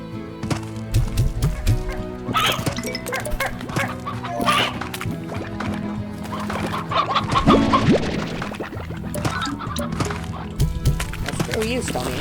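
Stony Hens clucking in the video game Slime Rancher, busy animal-like calls mixed with game music and effects while a player talks over them throughout.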